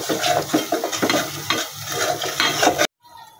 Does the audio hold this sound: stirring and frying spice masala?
yes